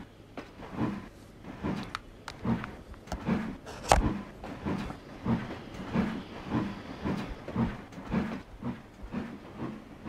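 A train running on rails in the video game Trainz Driver 2, with a steady rhythmic clickety-clack of wheels over rail joints, repeating about twice a second with a hissing steam undertone, continuous and moderately loud.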